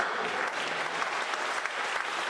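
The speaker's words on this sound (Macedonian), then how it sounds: "Ајде спонтан аплауз." A stand-up comedy audience breaks into dense, sustained applause, a continuous wash of clapping filling the room at close range.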